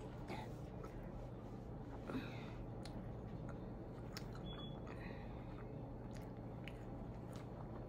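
Close, quiet chewing of pizza, with soft wet bites and squishy mouth sounds repeating irregularly over a faint steady background hum, no talking.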